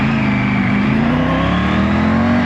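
A Triumph Tiger 900 Desert Edition motorcycle fitted with a road-legal Akrapovic exhaust revs loud and close, its engine note holding a sustained, slightly rising whine with no talk over it.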